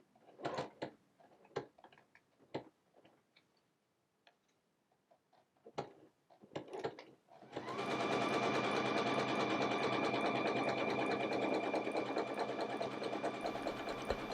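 A sewing machine stitching an appliqué monogram, starting with scattered clicks and short bursts, then running in a steady, loud, continuous whir close by, with no talk.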